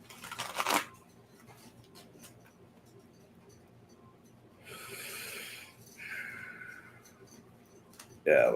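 A deck of cards is shuffled during a card reading: two short, quiet riffling bursts mid-clip, framed by brief vocal-like sounds at the start and end over a hushed room.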